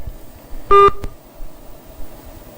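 Electronic phone call tone from a WhatsApp call: one short burst of two steady pitched tones close together, clear over a faint background hiss, with no talking.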